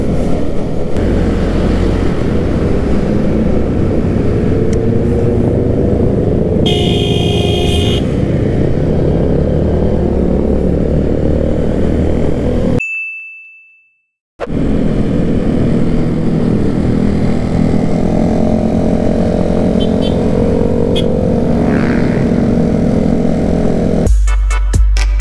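A Harley motorcycle engine on a Sunday morning group ride in Senayan, loud and close with a rough, steady rumble, broken by a brief dropout in the middle and ending with a short clunk.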